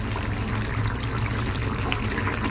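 Munanam fish curry poured into a serving bowl, a continuous close liquid pour and trickle lasting a few seconds without a break.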